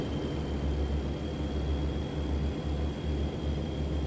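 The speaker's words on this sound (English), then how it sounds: "I love that sound on that whistling on the engine." A truck engine in a truck driving video game drones and whistles steadily, a continuous low rumble with a thin high whine running over it throughout, with no talking.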